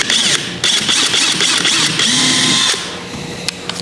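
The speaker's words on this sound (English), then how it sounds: "it's very important to use that 3/16 inch drill bit to make a pilot hole" Power drill boring a pilot hole with a 3/16 inch bit for a steering kit install, loud close whine in several bursts with short pauses, then winding down.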